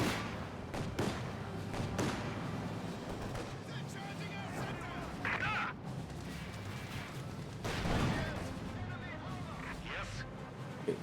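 Gunfire, artillery thuds and explosions rumble continuously through a WWII strategy game battle involving a Luchs firing at a glider and Waffen SS Panther tanks, with sharper bursts around the middle and later.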